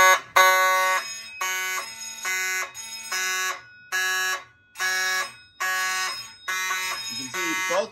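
A loud electronic fire alarm horn on a Simplex 4207 panel, triggered by a pull station, blares in repeated bursts with short gaps between them, a harsh buzzing tone pulsing steadily throughout.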